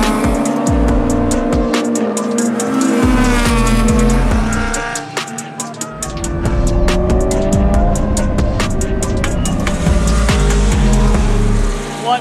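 A Mitsubishi Evo race car laps a track during a Gridlife time attack session, the in-car engine loud and close, revving hard through repeated gear changes with brief lifts and tire squeal in the corners, no talk.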